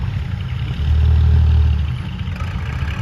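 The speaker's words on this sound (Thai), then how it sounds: "ขึ้นขับ รถไถ อยู่กันกับคูปต้า L5018" A Kubota L5018 tractor engine runs steadily at close range, its low rumble swelling louder for about a second in the middle before settling back to an even idle.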